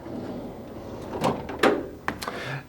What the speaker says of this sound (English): grab the handle on the drawer and squeeze the handle inside and then pull the drawer open